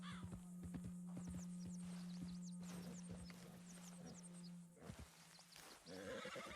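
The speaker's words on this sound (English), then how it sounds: "That horse don't listen." A horse in the video game Red Dead Redemption 2, its hooves clip-clopping in uneven steps along with snorts and a neigh, set against a steady hum and chirping wildlife, fairly quiet overall.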